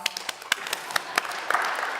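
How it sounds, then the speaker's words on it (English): A handful of soft, separate claps greets a resident theologian at a marriage conference, irregular and fairly faint, thickening briefly into a light patter near the end. "Round of applause"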